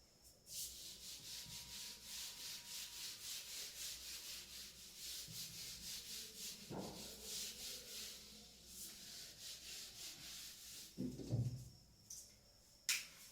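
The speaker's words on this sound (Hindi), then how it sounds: "इसको मैं रब कर रहा हूँ भाई" Rhythmic back-and-forth rubbing as writing is erased, a steady scrubbing stroke repeating at an even pace for most of the stretch, close and soft, followed by a few scattered knocks and taps, with no talking.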